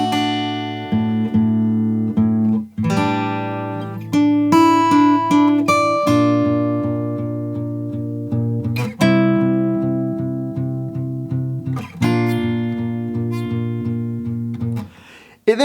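Fingerstyle acoustic guitar playing the closing line of a song: clear plucked notes over a steady repeated bass string, ringing and close, with no talk.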